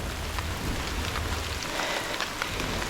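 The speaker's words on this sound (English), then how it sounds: "It's raining, somewhat chilly." Heavy rain pours steadily on a stormy, chilly morning around an abandoned house, a dense continuous hiss close to the microphone with no voices and low rumbling underneath.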